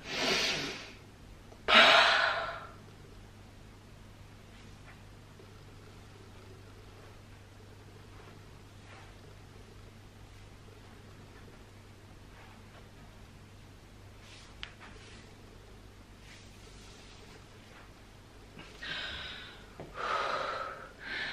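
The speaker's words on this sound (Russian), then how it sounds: "когда я выдыхаю, производится такой вот звук" A woman exhales forcefully through the mouth during a stomach vacuum exercise. Loud breathy bursts come at the start and again near the end, separated by a long quiet stretch.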